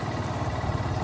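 A motorcycle engine hums steadily and close while riding out on a hot day, a continuous mid-pitched drone with no speech.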